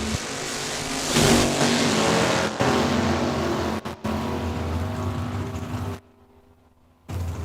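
Drag race cars launching and accelerating down the strip at Saskatchewan International Raceway during a Rod Race points final, a loud sustained engine roar that rises and holds, then cuts out briefly near the end before returning.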